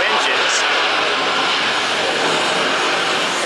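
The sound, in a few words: aircraft Neo jet engines running loudly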